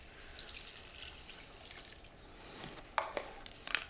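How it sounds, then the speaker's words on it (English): Fresh clam juice, a quart of it, is poured into cooking vegetables for clam chowder. Quiet, faint liquid trickling builds into a few soft splashes near the end. "I'm gonna use a quart of fresh clam juice. Just pour it right into the vegetables."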